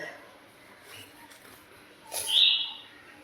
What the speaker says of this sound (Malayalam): ഇതേ മുകളിൽ ഏതോ ഒരു കിളി വന്നിരുന്ന് വിളിക്കുന്നുണ്ട്